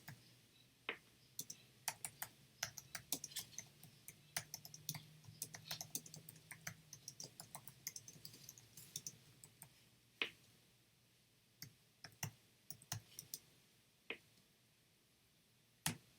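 Someone types on a computer keyboard while writing in Google Docs, giving quiet, irregular clusters of close key clicks separated by brief pauses.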